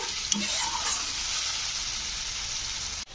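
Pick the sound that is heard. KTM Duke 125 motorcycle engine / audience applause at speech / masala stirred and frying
masala stirred and frying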